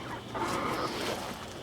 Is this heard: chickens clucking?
yes